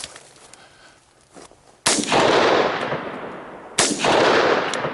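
Two loud gunshots at an outdoor shooting range, each a sharp blast followed by a long rolling echo, after a quieter stretch of faint background noise.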